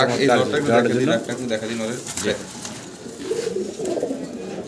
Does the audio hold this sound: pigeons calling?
yes